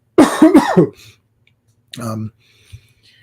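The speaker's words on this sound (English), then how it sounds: "sorry, I have to cough" Someone coughs twice, close up and loud, then a brief throat noise follows after a pause.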